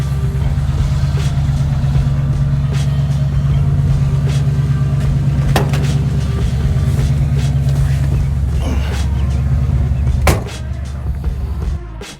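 A Ford Bronco driving, a loud, steady low engine drone with road rumble inside the cabin, a few knocks and rattles, the engine note easing slightly near the end.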